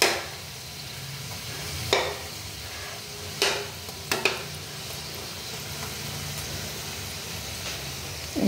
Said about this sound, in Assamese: সেইকাৰণে ৰঙচুৱাকৈ ভাজিছোঁ অকণমান